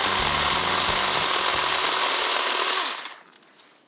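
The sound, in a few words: mini chainsaw running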